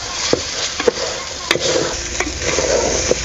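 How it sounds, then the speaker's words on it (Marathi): Masala and rice sauté in hot oil for chicken biryani, a close, loud sizzle broken by repeated sharp spoon scrapes and knocks against the pot, with a faint voice in the background. "हा मसाला बरोबर आपल्याला परतून घ्यायचा हे बघा ह्या पद्धतीने"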